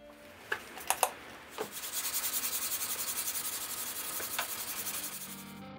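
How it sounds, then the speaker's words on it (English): A Rambo-style Bowie knife is sanded by hand. A few scrapes and taps come first, then an even back-and-forth rubbing rhythm that stays close and fairly quiet with no talk. "Yep, more hand sanding, and a lot of it."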